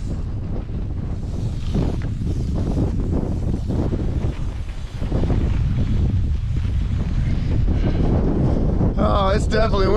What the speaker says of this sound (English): It's definitely windy, but it's beautiful.